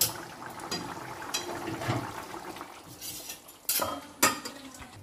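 A cooking pot of bata fish and ghot kochu taro is lifted off the stove. Soft shuffling and scraping give way to two sharp metallic clanks near the end.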